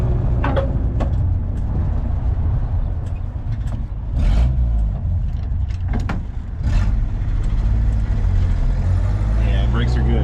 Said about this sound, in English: Okay, let's give it a little brake test here.